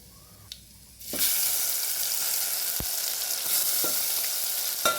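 Ginger-garlic-chili paste drops into hot oil with cumin seeds and sizzles loudly. The sudden burst is followed by steady frying and a few utensil taps, with no voices.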